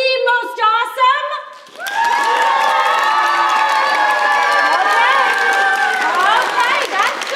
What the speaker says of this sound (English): Get ready to vote with applause.